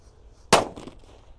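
A red disco happy flower firecracker set off at New Year goes off in a single sharp, loud bang, followed by a brief crackling tail that fades quickly.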